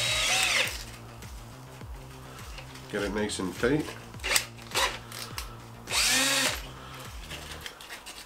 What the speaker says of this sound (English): put the end of the split pin in your cordless drill